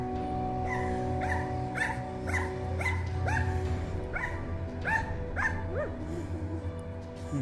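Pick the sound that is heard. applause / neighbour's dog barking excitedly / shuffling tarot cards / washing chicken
neighbour's dog barking excitedly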